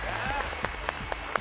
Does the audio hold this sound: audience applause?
yes